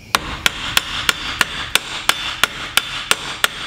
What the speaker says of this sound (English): grab a hammer and slightly hit this so it pushes itself through the wheel